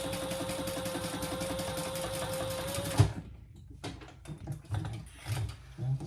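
A sewing machine runs steadily for about three seconds as it bastes a leather waist pack, its needle chattering in a fast, even rhythm. It then stops abruptly, and soft handling thumps and rustles follow.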